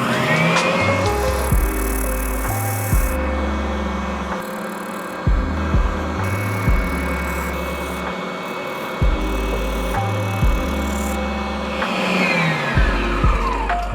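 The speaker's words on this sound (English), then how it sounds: "we're back over to the spindle sander to round out the point that makes contact with the tube" A spindle sander whirs steadily while shaping a point on a piece of styrofoam, its motor hum continuous with repeated low rubbing surges as the foam is pressed against the drum.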